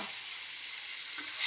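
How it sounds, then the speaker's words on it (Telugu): Small bitter gourds fry in oil, giving a brief, steady sizzling hiss that is heard alone. "ఇట్లా వేగుతున్నాయి కానీ ఇంకా వేగాలండి."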